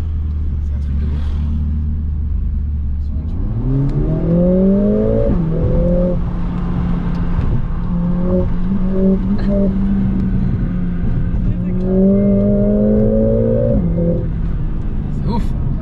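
A Mercedes CLA45 AMG engine revs up hard from a low rumble, rising and dropping through several pulls before climbing again, loud and close from inside the car, with people talking over it.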